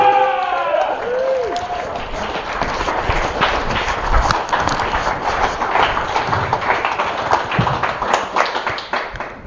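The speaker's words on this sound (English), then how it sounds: "Start the applause. Big round of applause." Dense clapping and applause from a crowd, steady and energetic throughout, with a brief whistle-like sweep at the very start.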